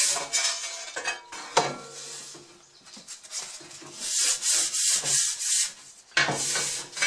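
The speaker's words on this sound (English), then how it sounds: "Give them all a little bit of a sanding down." Close, scratchy rubbing of sandpaper on wood in repeated back-and-forth strokes, some long and some short, with brief pauses in between.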